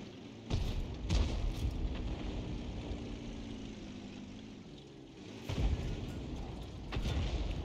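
Artillery shells strike a tank in World of Tanks, heard as deep booming impacts with a sudden thump near the start and another around the middle, over a low rumbling engine drone, no talking.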